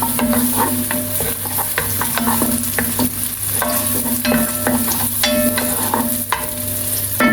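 Onion and garlic fry loudly in a pan while being stirred for Ethiopian fasolia with rice, a close, continuous sizzle broken by repeated scraping strokes of the spoon, with no talking.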